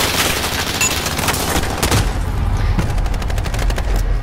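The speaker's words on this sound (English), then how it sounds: "I forgot people can shoot through wood." Rapid automatic gunfire in a Call of Duty match, dense bursts of close, loud shots rattling in quick succession with no talk.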